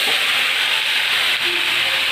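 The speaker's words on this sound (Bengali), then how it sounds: "ওই তেলে শুকনো লঙ্কা, জিরে আর তেজপাতা ফোড়ন দিয়ে একটু নেড়ে চেড়ে কেটে রাখা চাল কুমড়ো আর টমেটোটা এর মধ্যে দিয়ে দেবো" Hot oil spiced with dried red chilli, cumin and bay leaf hisses loudly as chopped ash gourd and tomato go in, a dense, steady, close sizzle that holds for about two seconds without a break.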